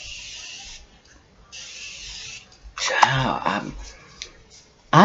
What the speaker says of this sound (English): This is the Morphe setting spray that I will be using.